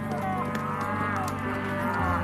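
Cattle mooing in a steady, continuous drone of overlapping low calls from a herd, fairly close and loud throughout, with no talk.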